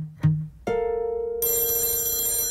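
A telephone rings steadily and fairly loudly after a couple of brief knocks at the start, its bright electronic ringing growing fuller partway through and continuing to the end with no talking.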